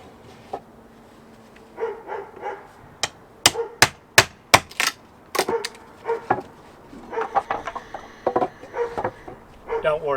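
Rough chiseling of wood while fitting a narrowboat floor, heard as a series of sharp, close mallet-on-chisel strikes in an irregular rhythm, some in quick bursts, with brief pauses between groups.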